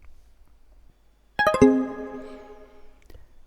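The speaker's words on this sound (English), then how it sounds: "with quite a loud notification, you can see that your video is finished" Replay Mod render-finished notification in Minecraft: a loud, bright chime of several quick rising tones that rings out and slowly fades over near silence.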